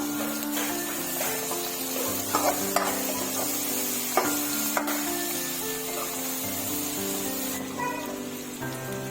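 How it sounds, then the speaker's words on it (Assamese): Steady sizzling of ginger-garlic and dried chili paste frying in hot oil, with occasional stirring clicks, close up, under a low sustained hum and no voices. "আদা নহৰুৰ পেষ্ট আৰু শুকান জলকীয়া পেষ্টটো ইয়াতে দি এতিয়া অকণমান ভাজি লৈছোঁ"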